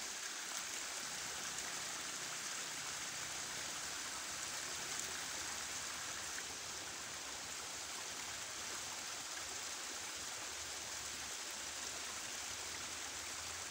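A small stream runs steadily with a constant rushing, hissing wash of water, even and unbroken throughout, with no voices.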